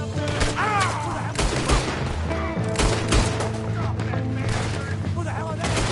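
Rapid gunfire rattles through a Red Dead Redemption 2 shootout, with dense overlapping shots, sharp cracks and bursts repeating throughout amid busy game sound.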